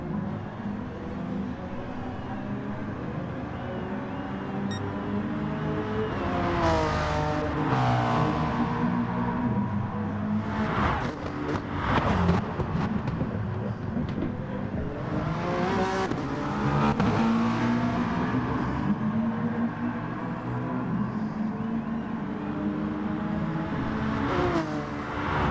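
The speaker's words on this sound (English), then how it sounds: "Both these cars sound so good." GT4 race cars at Spa accelerate and shift repeatedly, engines rising and falling in pitch with brief whooshes as they pass, loud and continuous throughout.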